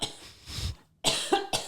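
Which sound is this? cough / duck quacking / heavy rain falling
cough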